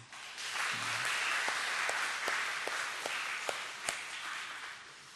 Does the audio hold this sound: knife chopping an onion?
no